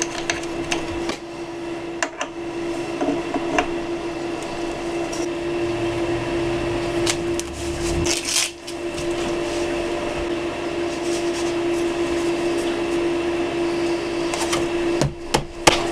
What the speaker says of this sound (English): So I'm going to download that to my machine and start cutting.